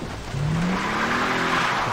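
A car in Far Cry 3 drives hard with its tires squealing in a rising skid over a loud engine rush, close and continuous to the end.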